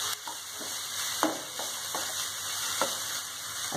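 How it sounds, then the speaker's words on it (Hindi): Peas and carrots cooking in a pan for a semolina breakfast dish, with a steady sizzle and occasional scrapes and stirs from a utensil, heard up close with no talking. "मटर और गाजर को बस 2 मिनट के लिए पकाएंगे।"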